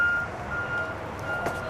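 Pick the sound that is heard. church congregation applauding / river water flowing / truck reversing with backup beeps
truck reversing with backup beeps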